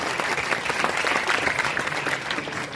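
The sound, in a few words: applause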